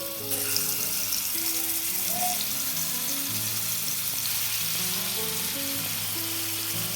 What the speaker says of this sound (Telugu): ఇప్పుడు ఈ పన్నీర్ పీసెస్ని ఒక్కొక్కటిగా నూనెలో వేసుకోవాలి